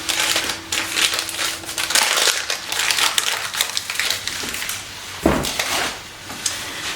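A knife cuts half a stick of butter into smaller pieces in a mixing bowl, making close, irregular scraping, squishing and tapping sounds, with one sharper knock near the end.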